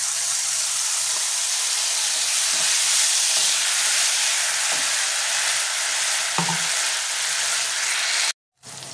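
Spice paste of ginger, green chilli, white sesame, poppy seed, cashew, raisins and milk powder sizzling with cauliflower in a pan, a loud continuous hissing fry with a few soft stirring knocks, cutting off briefly near the end.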